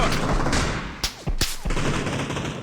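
Gunfire in the battle royale game PUBG, a rapid close burst of shots followed by two sharp loud cracks over steady game noise, all within a few seconds.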